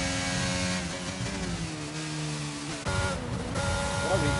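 A race car engine from a racing video game drones at a steady, sustained pitch with a brief drop and rise, running under voices talking over it.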